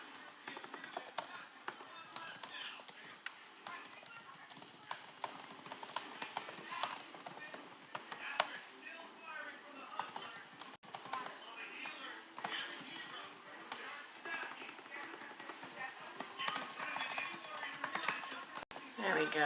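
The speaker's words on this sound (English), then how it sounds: "I've got to type it." Fast, irregular keyboard typing, quiet and close, with light clicking taps in uneven bursts and a few sharper key strikes.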